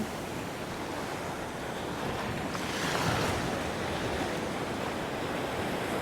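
Steady ocean surf washing onto a beach at a homestay on Pantai Camara, a continuous broad roar with a slight swell midway, wind buffeting the microphone and no voices.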